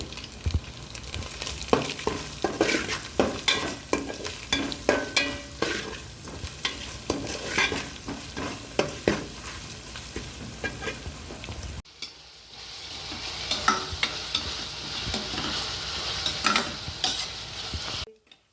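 Onions fry in a pan with salt for moong dal khichdi, giving a loud close sizzle broken by repeated spatula stirs and scrapes, then a brief pause and a steadier hiss.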